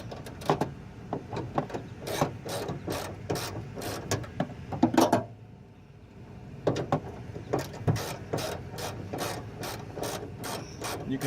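A hand ratchet loosens a hood bracket bolt on a 2007 Chevy Tahoe, a close, loud series of rapid clicking pawl strokes in bursts, pausing briefly midway before the clicking resumes.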